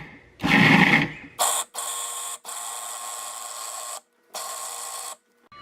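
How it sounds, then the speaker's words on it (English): Food processor pulsing a tofu ricotta mixture in several short whirring bursts with quick stops between them, close and clear, preceded by a brief rustling clatter. "Put all the ingredients in a food processor, and we are going to pulse this."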